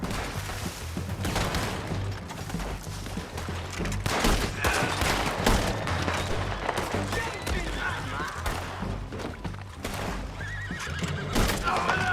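Horses whinny and snort amid pounding hooves in the video game Red Dead Redemption 2, with bursts of gunfire and scattered voices in a chaotic, busy scene.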